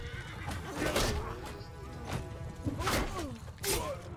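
A horse in the video game Mount & Blade II: Bannerlord, with the Realm of Thrones mod, whinnies several times in shrill, rising-and-falling neighs over a busy bed of battle noise and scuffling.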